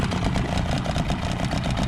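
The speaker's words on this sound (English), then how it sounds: "It's idling good." A new outboard motor on a jon boat idles steadily at the water, a continuous low mechanical putter with a faint pulsing rhythm, close and even throughout with no talking.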